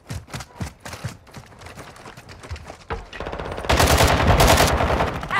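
Automatic AKS-74U gunfire in Call of Duty Modern Warfare 2 multiplayer, loud close bursts of rapid shots, first in short broken volleys and then in a dense sustained stream near the end.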